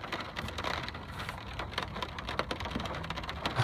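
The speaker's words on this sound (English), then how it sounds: "It's raining." Heavy rain during a thunderstorm in Murrieta and Menifee, California, falling as dense, crackling patter on nearby surfaces, with sharp individual drops tapping close by and no talk.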